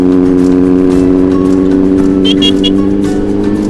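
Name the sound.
big motorcycle riding over a rough road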